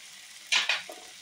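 Street-style veg chowmein noodles with tomato sauce are stirred in a frying pan, giving two quick sizzling, scraping strokes with a brief hiss, alone and fairly quiet.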